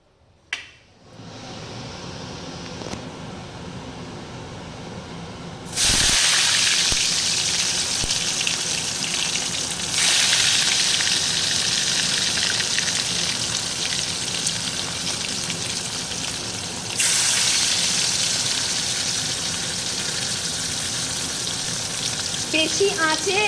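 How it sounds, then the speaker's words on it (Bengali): Bhetki fish fillets fry in mustard oil over medium heat, a steady broadband sizzle that surges loudly as pieces hit the pan and carries on with crackling spatter throughout, no voices. "মিডিয়াম আঁচে মাছগুলো ভেজে নিচ্ছি"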